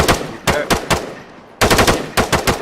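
Machine gun fire at a weapons training range: a few spaced single shots, a short pause, then loud rapid bursts, close and sharp.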